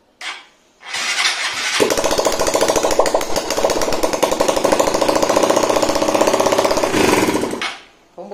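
An engine running on alcohol fuel with no exhaust fitted sputters to life and then holds a loud, harsh, rapid clatter for several seconds before cutting off.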